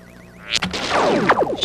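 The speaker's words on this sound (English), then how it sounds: "You have activated an alarm sensor." Alarm sensor effect from the 1984 video game Thrillkill, a warbling electronic tone giving way to a loud burst of sweeping, swirling synthesized noise, heard alone.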